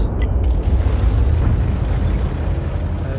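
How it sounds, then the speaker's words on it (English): An artillery shell from an arty gun striking a tank in World of Tanks, heard as a deep, heavy rumbling boom that swells and lingers for a few seconds, loud and close. "Firing in at the tortoise. Direct hit."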